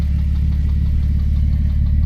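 A Ford FG XR6 Falcon engine idles steadily with a low, rough rumble and faint rhythmic knocking from a loose flex plate bolt underneath, continuous and close throughout.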